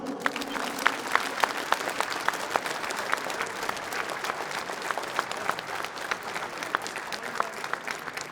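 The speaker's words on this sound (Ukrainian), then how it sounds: "Друже, ці оплески для тебе." Steady applause from a fist-fighting tournament crowd greets the winner by technical knockout, sharp individual claps standing out over a dense, even wash of clapping that holds for the whole stretch.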